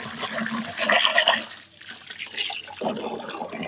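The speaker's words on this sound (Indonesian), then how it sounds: "Ini airnya kurang laju, saya buka dikit" Water runs from a tap into a container, filling it to about 20 liters for mixing fertilizer for oil palm seedlings at a pre-nursery; a steady broadband gush that thins briefly mid-clip, then resumes.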